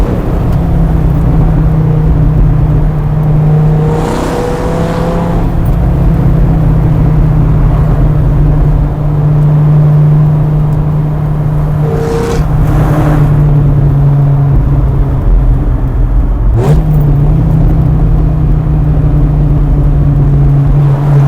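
A Dodge Viper SRT-10 engine drones loud and steady on the road, with a low rumble that swells and eases as the driver works the throttle. No one talks over the continuous engine noise.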